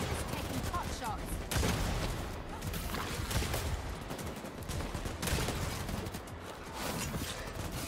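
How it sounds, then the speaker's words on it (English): Heavy, sustained gunfire in the video game EvilvEvil during a fight with a cult, with rapid overlapping shots and bursts that barely pause, and game voices audible beneath the din. "Some coward is taking pot shots."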